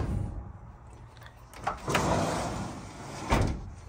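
A door is swung open and shut, giving a few broadband scraping and knocking bursts over a low rumble at close range, with no talking.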